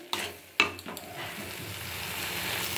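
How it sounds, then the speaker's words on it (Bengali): Spice paste with salt and turmeric sautéed in oil in a pan for a silver cup fish curry: a couple of sharp spatula clanks up front, then a steady, close sizzle hissing without pause. "এবার মশলাটা কষে নিই।"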